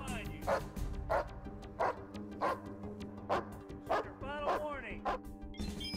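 A sheriff's office police dog barks repeatedly at an even pace, with about eight loud close barks, some with whining yips, while someone shouts commands.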